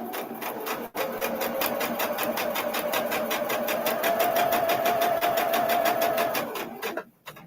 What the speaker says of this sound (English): And I'm sewing these right to the batting.